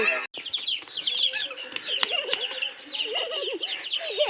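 Black chickens clucking and calling close by in a yard, a steady stream of overlapping bird sounds with brief pauses, with a faint voice speaking underneath.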